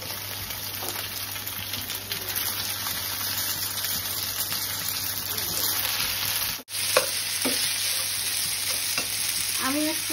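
Noodles tossed and stir-fried in a hot pan for chicken chow mein, giving a steady close sizzle with scraping stir strokes throughout; no one speaks.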